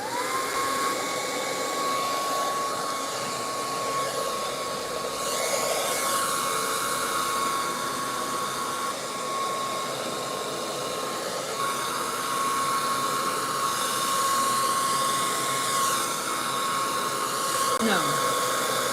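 A hair dryer runs on high speed during a silk press, a loud continuous close-up whoosh with a steady whine that holds level throughout, while people talk over it.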